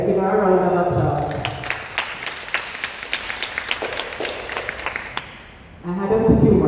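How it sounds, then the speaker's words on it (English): An audience at the Jamaica Cancer Society annual general meeting breaks into applause, with sustained clapping for about five seconds. A voice speaks just before the clapping, and talking resumes as it fades. "Let's give her a round of applause."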